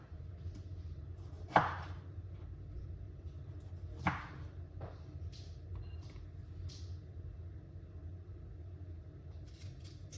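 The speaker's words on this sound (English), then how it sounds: "We're gonna use one lime and don't remove the skin from the lime." Two sharp knife chops through a whole lime with the skin still on, cutting against a board at about two and four seconds, then a lighter cut follows over a low steady background rumble.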